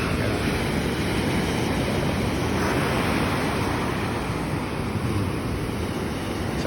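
Ocean surf washes continuously onto a beach in a dense, roaring hiss, loud and close, with wind blowing across the microphone and no voices heard.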